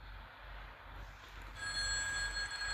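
A telephone rings in the horror video game Mental Hospital IV. A steady, fairly loud electronic ring sets in partway through and sustains over a quiet background, with no voices.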